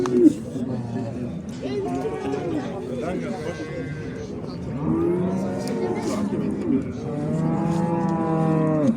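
Dairy cows moo repeatedly at a busy livestock bazaar in Sokuluk, long low calls close by, one after another, with crowd chatter and voices in the background.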